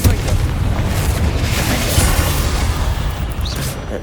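In Hogwarts Legacy, a Confringo spell detonates as a loud, close, rumbling explosion with a deep boom that lingers and rolls on throughout.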